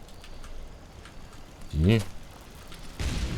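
Fireworks go off in the video game Fallout 76. A voice is heard briefly, then a broad, noisy burst erupts near the end, with faint background rumble throughout.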